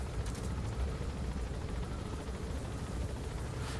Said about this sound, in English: they've got a helicopter there